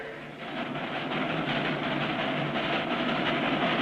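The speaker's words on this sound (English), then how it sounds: "As the little train starts across the bridge, Clutch and Company blown to bits." Steady rumble of a small steam train rolling along a high bridge, with a faint rhythmic clatter over the rails, continuous and fairly close, in a 1959 cartoon.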